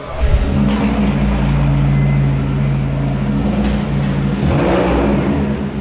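A car engine revs loudly and up close, holding a thick continuous roar that swells again near the end, with no talk over it.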